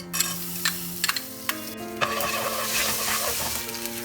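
Urad dal hits a hot oiled pan, starting with a few sharp spatters and clinks, then swelling into a steady sizzling hiss with occasional stirring scrapes.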